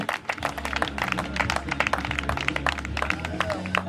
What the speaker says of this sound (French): La première féminine, on l'applaudit bien fort